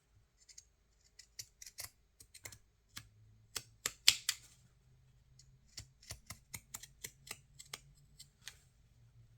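Scissors snipping around the edge of a sewn fabric bookmark, a steady series of sharp close-up cuts with short pauses between them, no talking.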